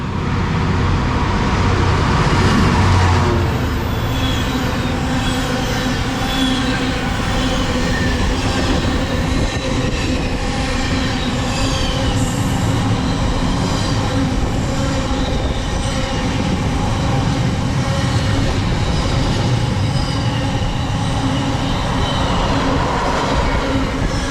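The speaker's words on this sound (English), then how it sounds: "we've got some freight coming through now from Felixstowe north to Garston, on of a shed, 60 class 66, 510." A Class 66 diesel locomotive hauls a freight train heading north from Felixstowe to Garston, passing close by with a steady roar of wagons and wheels rumbling over the track, occasional squeals cutting through the continuous noise.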